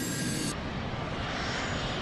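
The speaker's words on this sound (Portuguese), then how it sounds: "Comandante Morwood faz um breve aquecimento dos motores para livrá-los de qualquer neve e gelo acumulados" Fokker F-28 jet engines run up on the runway before the takeoff roll in snowy, icy conditions, giving a loud, steady broadband roar with a slight shift in tone partway through.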